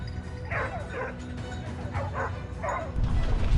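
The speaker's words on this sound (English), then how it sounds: "The barking of hunting dogs signaled the prey's position." Hunting dogs on a wild boar hunt bark and yip in short bursts at moderate distance, with some whimpering, over a rumbling outdoor background.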